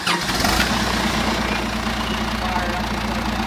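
A Pioneer pump's engine fires up and settles straight into a steady, loud, low idle rumble that holds on without a break.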